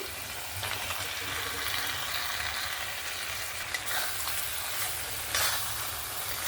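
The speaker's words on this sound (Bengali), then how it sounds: "এবার আমি ভেজে রাখা চিংড়ি মাছগুলো এখানে দিয়ে দেব।" Fried prawns going into a pan of hot, oil-releasing masala for a Bengali golda chingri malaikari, giving a steady broadband sizzle and frying hiss with a few stirring scrapes throughout.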